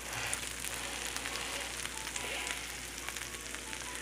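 Pancakes frying on a griddle set to 400 degrees, a steady close hiss and crackle of sizzling batter running unbroken throughout with no voices.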